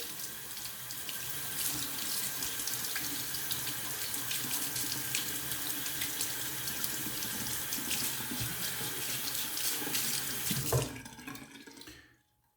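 A tap runs in a steady, close hiss while a Dorco double-edge razor is rinsed beneath it, the flow holding for about eleven seconds before cutting off into quiet.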